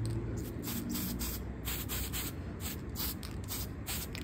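A continuous close hiss of an aerosol spray can laying a flat black tack coat onto RC car wheels, steady with slight pulsing as the can sweeps across, no voices.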